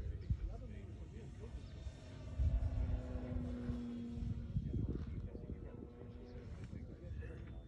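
An RC model L4 Grasshopper airplane on its maiden flight gives a steady propeller-motor drone with a whining tone that swells briefly midway, heard under people talking nearby.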